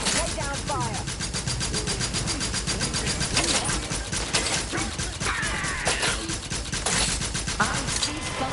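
Loud, rapid bursts of automatic gunfire from a firefight in The Outer Worlds 2, rattling steadily throughout alongside a mechanical hum and talking voices.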